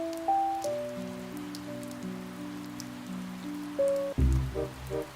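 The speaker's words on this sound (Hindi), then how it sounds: "थोड़ी देर में तेज बारिश आना शुरू हो जाती है।" Heavy cartoon rain falling steadily as a soft continuous hiss beneath sustained musical tones, ending in a louder burst of lower thuds.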